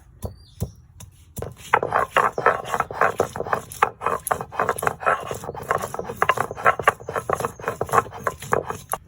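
Ginger and cumin are ground into a paste on a grinding stone, a rhythmic rasping scrape repeated rapidly back and forth, close and steady after a few initial knocks.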